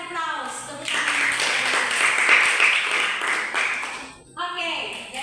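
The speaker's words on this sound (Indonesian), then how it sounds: "mari berikan aplaus. Tepuk tangan." Children clapping together in a classroom, a dense burst of applause lasting several seconds with voices speaking before and after it.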